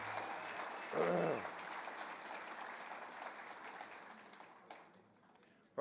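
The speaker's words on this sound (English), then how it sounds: "another big round of applause for our speakers, Taine Randall and Michael Laws" Convention audience applause for speakers, a fairly faint, distant wash of clapping that briefly swells early on and then slowly fades, with a short louder burst at the very end.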